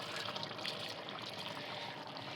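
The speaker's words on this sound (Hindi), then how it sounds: "तो थोड़ा पानी कमी थे तो थोड़ा पानी ऐड कर देती देखो मैं" Water is poured into a pot of mutton tahari as it cooks, a steady bright hissing pour that runs continuously at close range with no voice over it.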